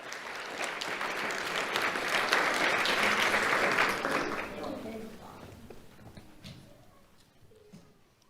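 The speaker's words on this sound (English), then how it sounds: "Let's have a round of applause for Isaiah Miranda" Audience applause for an award winner at a community awards ceremony, building to a loud peak then fading away, followed by a quieter stretch with a voice and scattered room sounds.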